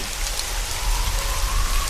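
Steady rain pours down in a dense forest at night, an even, close hiss of drops striking leaves and ground, with no voices.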